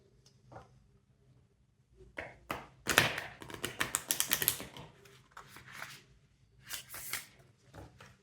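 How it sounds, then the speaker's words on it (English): Lunalpin tarot cards are shuffled in quiet bursts of soft flicks and taps, with a denser flurry of riffling in the middle and a few scattered shuffles afterward. "Just going to shuffle like this in order to cleanse the energy of the cards."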